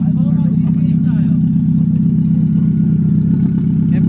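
Mazda Miata with an open header, its engine idling loudly and steadily with a low, rough drone close by, while people talk over it.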